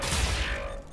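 A gunshot from the shooter video game Wolfenstein: The New Order is heard on a Moon mission: a single loud, noisy burst that fades away over about a second with no talking.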